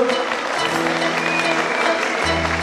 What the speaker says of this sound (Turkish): Şimdi sevgili Burcu için kuvvetli bir alkışlarınızı duyalım.